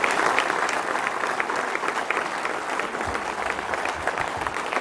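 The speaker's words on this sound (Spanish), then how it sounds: "Un aplauso para Claudia por esa decisión" A large outdoor crowd at a park inauguration in Mexico City breaks into steady, dense applause that holds at an even level throughout, with no voices standing out.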